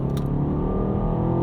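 A 2022 BMW Alpina B8 Gran Coupe with a tuned 612-horsepower turbocharged 4.4-liter V8 pulls hard, its steady, loud engine drone and road roar heard from inside the cabin.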